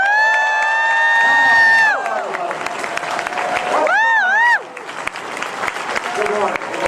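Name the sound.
audience applause for Evil Dead cast at panel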